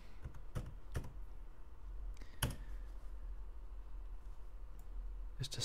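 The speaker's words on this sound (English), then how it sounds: "I'm going to type in orbit," A handful of sparse, quiet keystrokes on a computer keyboard as a command is entered in AutoCAD, isolated clicks spaced over a faint steady room hiss.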